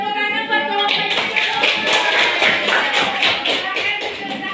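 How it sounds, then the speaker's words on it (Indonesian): Classroom applause for a student group, a steady run of quick hand claps from many pupils at close range, lasting throughout with a faint murmur of voices underneath. "Nah, tepuk tangan buat kelompok ini."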